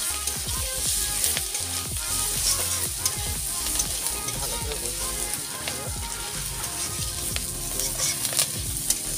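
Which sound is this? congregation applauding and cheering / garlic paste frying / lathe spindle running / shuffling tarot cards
garlic paste frying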